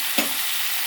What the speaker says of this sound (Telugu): ఇప్పుడు చికెన్ వేసేసుకుంటాను. చికెన్ వేసేసుకొని కలుపుకుందాం